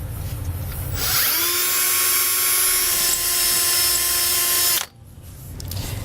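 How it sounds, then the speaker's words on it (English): A power drill whines at a steady high pitch for several seconds while drilling a pilot hole in a 2017 Winnebago, then cuts off abruptly, with quiet room noise before and after. "And with our pilot hole drilled"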